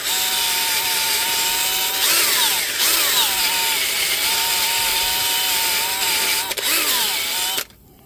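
A wire wheel on a power tool scrubs rust off brake parts of a 2020 Hyundai Palisade, a loud continuous grinding whir with brief pitch swoops as it bites the metal, running steadily before stopping abruptly.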